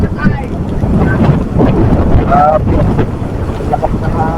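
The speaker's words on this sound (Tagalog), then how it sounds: "Lakas na hangin." Strong typhoon wind roars and buffets steadily against the microphone in a dense, continuous rush, with faint voices underneath.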